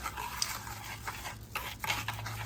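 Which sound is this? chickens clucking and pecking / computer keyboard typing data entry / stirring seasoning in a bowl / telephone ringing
stirring seasoning in a bowl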